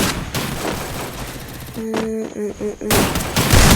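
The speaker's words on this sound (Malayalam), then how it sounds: "MP40 ഇട്ട് ഹെഡ്ഷോട്ട് അടിക്കാൻ നോക്കിയത്, പക്ഷെ ബോഡിയെ കയറിയുള്ളൂ" An MP40 submachine gun fires in a shooting video game training mission. Rapid bursts crackle at the start and again at the end, with quieter in-game sounds between them.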